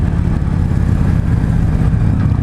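A 2016 Victory High-Ball motorcycle runs loud and close throughout, its V-twin rumble and wind noise steady as it rides.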